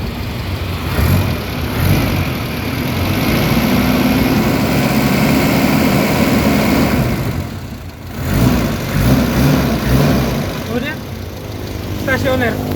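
A 1984 Mitsubishi Lancer SL box-type sedan, an older carbureted car with a stumbling misfire, idles at close range near 1000 rpm, a steady mid-low engine drone that dips briefly partway through, with people talking over it.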